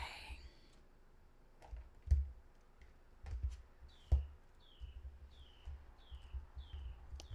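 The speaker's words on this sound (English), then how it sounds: "Wow, can you all hear that bird outside?" A bird calls outside with a repeated short descending note, about six times at a steady rhythm, faint and distant, alongside scattered soft clicks and low room noise indoors.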